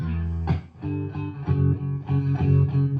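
An electric guitar plays chords through a vintage Fender Pro Reverb amplifier, the sustained notes pulsing and wavering in volume with a steady tremolo effect.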